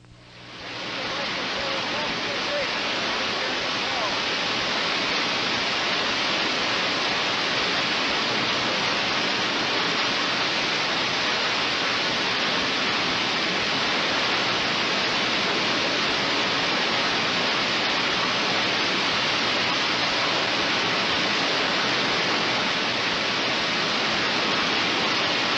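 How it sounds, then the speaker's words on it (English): Iguazu Falls on the Brazil–Argentina border, a vast waterfall, gives a continuous broadband roar that swells in within the first second and holds steady and loud throughout, with no talk. "one of the world's greatest water spectacles, the famous falls at Iguazu"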